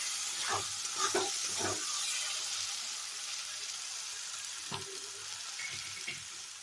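Cashew paste frying in a pan on a low flame during a curd chicken recipe gives a faint, soft sizzle, with a few light stirring scrapes now and then.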